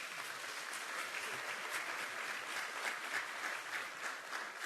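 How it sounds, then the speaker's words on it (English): An audience at an industry planning briefing applauds in a steady, dense wash of many hands clapping together, moderately distant and sustained throughout. "So I'd like us all to give a round of applause to the GCS team."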